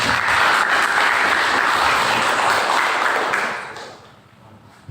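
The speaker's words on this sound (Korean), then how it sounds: "오늘 찬양팀 박수 한번 쳐주세요." Applause from a church youth congregation for the worship team, a steady broad wash of clapping that holds loud for several seconds, then thins and fades toward the end.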